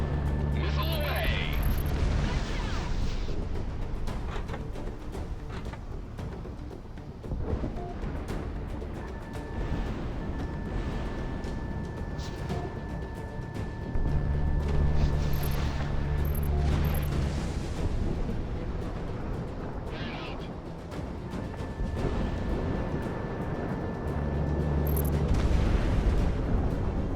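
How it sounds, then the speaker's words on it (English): A missile launching and exploding in the Project Wingman combat flight game, heavy rumbling booms under constant jet engine roar, with voices talking over radio. "Missile away."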